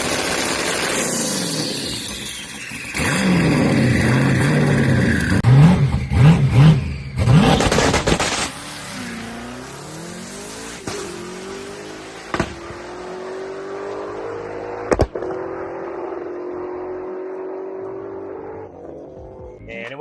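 A twin-turbo Corvette Z06 drag car launching down the strip, a loud roaring engine run with rising revs and crackles, then fading into a long distant drone as it pulls away.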